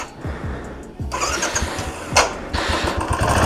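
A Royal Enfield Classic 350 motorcycle is cranked with a few starter turns, then its single-cylinder engine catches and settles into a loud, steady thumping idle close by.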